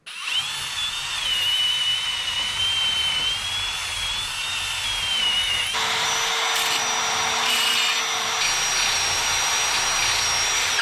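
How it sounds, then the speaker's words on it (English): Power tool with a wire wheel scouring a brake caliper clamped in a vise from a 1985 Chevrolet Corvette, a loud sustained high whine that shifts pitch midway, continuing for about eleven seconds without talk. "I got the caliper clamped in here. I got the IROC covered so we don't get no junk all over it, and we're gonna try to wire wheel this guy down"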